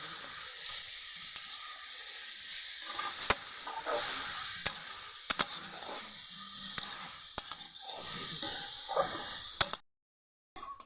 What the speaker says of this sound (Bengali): এটাকে এবার আমি ভালো করে নাড়াচাড়া করে নেব।